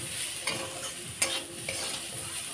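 Turmeric and cumin powder fry with vegetables in a pan, a soft steady sizzle broken by a few scraping stirs of a spoon, close up and without speech.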